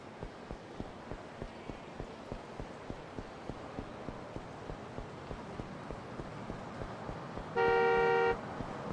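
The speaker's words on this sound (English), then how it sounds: "Stop honking." A car horn gives one loud, steady blast near the end in the video game Yakuza 5, after a long stretch of regular, even footsteps or hoofbeats.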